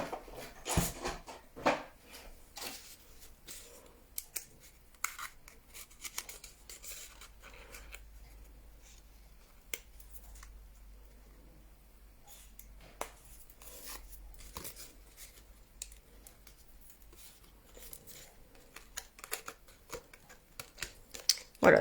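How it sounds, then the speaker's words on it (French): Scissors cut through scrapbooking paper for an Easter basket project, a scattered run of soft close snips and crisp rustles, quiet and uneven, with a low background hum. "je viens couper ici."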